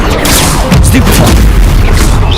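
A Stupefy spell blast in Hogwarts Legacy, a loud booming magical impact over dense game effects, with a shouting voice mixed in.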